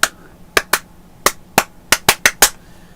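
Sharp hand claps land on the beat of a song, about nine crisp, loud hits in a loose rhythm, some spaced widely and others in quick succession, over a faint low backing.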